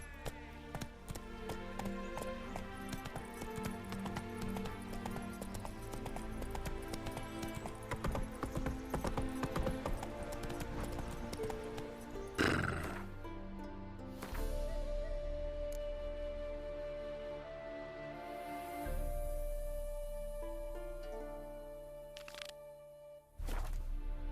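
Roach the horse from The Witcher 3 galloping with rapid rhythmic hoofbeats under music, then slowing, with a whinny and scattered clopping steps in the later half.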